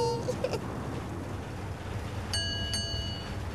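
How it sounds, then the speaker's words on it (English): A bus stop bell on a big red bus in a 1993 children's TV show rings twice in quick succession, two bright, clear dings standing out over a low, steady background rumble. "So they press that bell up there, ding ding, and it tells the driver to stop the bus."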